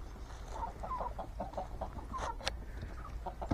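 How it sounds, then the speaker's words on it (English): Chickens at a campground cluck softly in short, scattered bursts, faint and close-ish, with quiet background ambience. "Here are the chickens."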